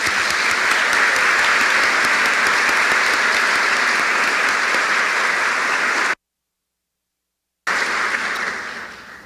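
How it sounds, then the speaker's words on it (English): Steady, dense applause fills the hall at a leadership studies graduation ceremony, broken by a brief gap of silence before the clapping resumes and fades out. "One more round of applause for all of them."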